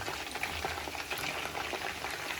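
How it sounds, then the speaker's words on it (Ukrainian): Chicken and onion fry in a pan with a soft, continuous sizzle and light bubbling, faint and close, with no talking. "курочка вже піджарюється"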